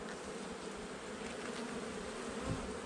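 Honey bees fly around an open hive during an inspection, making a dense, continuous buzzing hum. The swarm sounds close and fairly steady, with no voices over it.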